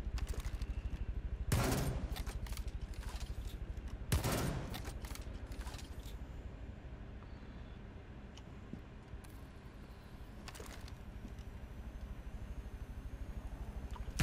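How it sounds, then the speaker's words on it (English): A dental gun fires in a video game, two or three sharp bursts standing out above a low, steady mechanical drone, with a fainter shot later on. "It's the dental gun! Yes, it's the dental gun."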